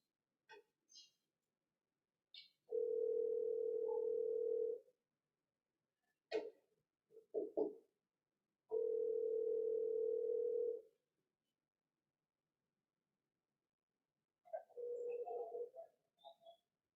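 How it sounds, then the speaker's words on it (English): Two long steady telephone ringing tones sound on a call line, separated by silence, with faint short chirps and clicks scattered around them. "So we're gonna call Ellen, see what she's doing"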